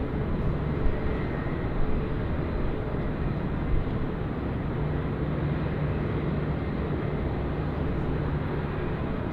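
An airliner approaching to land at Sydney Airport fills the air with a steady, broad roar, moderately loud and continuous with no clear rise or fall, heard from outdoors.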